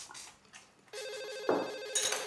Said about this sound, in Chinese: 接电话去，姐。